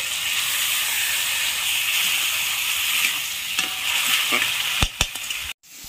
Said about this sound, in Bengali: ডালটা ভালো করে কষানো হয়ে গেছে